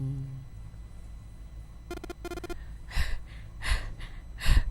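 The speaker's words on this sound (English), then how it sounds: "Everyone panting." Video game characters in 9 Hours 9 Persons 9 Doors panting and gasping in a series of short breathy bursts, following a couple of rapid electronic beeping tones.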